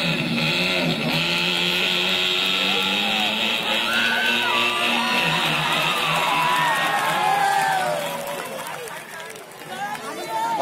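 A voice imitates a motorcycle circling the well of death, with rising and falling engine-like whines and revs, while a crowd cheers, whoops and chatters around him.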